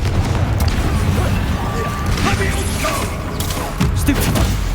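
A Confringo fire spell explodes in the Hogwarts Legacy video game, heard as a dense mix of booming blasts and crackling bursts amid continuous loud battle noise, with several sharp hits spread across the stretch.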